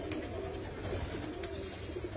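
Pigeons coo softly at a pigeon-flying competition, a faint continuous murmur of calls over steady outdoor background noise.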